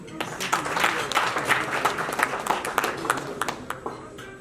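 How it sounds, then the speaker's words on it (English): A dinner audience at a summit gala claps in a loose, uneven burst, moderately close, with individual sharp claps standing out and a few voices murmuring underneath. "Let's clap for him."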